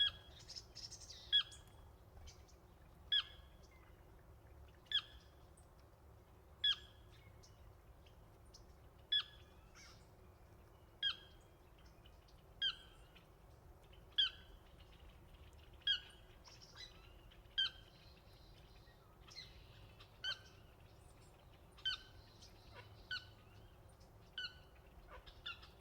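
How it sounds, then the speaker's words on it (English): Outdoor birdsong by a lake with regular sharp squawks and caws repeating every second or so, with softer chirps between, over a quiet ambient hum. "listening to the birds."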